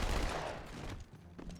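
Gunfire in the video game Halo 2 crackles in a short, dense burst of rapid shots that fades over about a second, followed by a few fainter pops.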